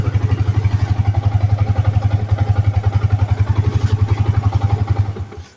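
A motorcycle engine runs after a double-starter start on a healthy 12.6-volt battery, its close, steady idle thumping rhythmically throughout before fading at the very end.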